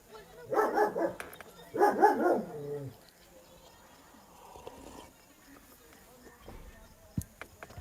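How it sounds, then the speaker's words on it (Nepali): A dog barks in two short, loud bursts close by during a live online prayer session, then the room falls to a low background hum with faint scattered noises. "फेरि कुकुर कराउन थाल्यो"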